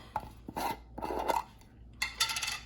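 A jar of all natural peanut butter being opened gives several short scraping, rasping twists of the lid in three quick bursts, close and clear with no talk.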